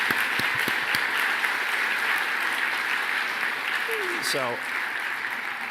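Conference audience at a legal and compliance event applauding for the SEC chair, a steady room-filling clapping under a host's voice, with a brief spoken word near the end.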